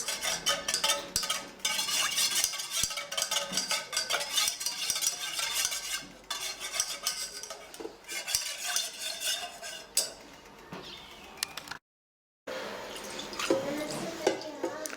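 A spoon stirs melting candle wax with lipstick in a pot, scraping and clinking in quick repeated strokes, close and fairly loud, with a brief gap of silence near the end.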